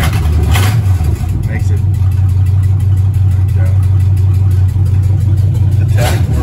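A 1965 Chevrolet Malibu with a Chevy 350 V8 idles loud and close, its exhaust giving off a quick, steady ticking over the low rumble while someone talks nearby.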